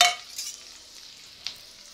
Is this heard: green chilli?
yes